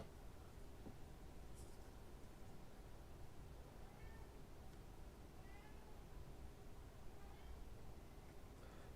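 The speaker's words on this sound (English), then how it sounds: "The cat is hungry." A cat meows faintly a few times indoors, short rising calls well in the background behind a steady low hiss, with no clear talking.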